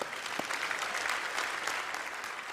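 An audience at a fireside chat event claps in a steady, fairly distant wash of applause, even and sustained, heard from a slight remove without voices on top.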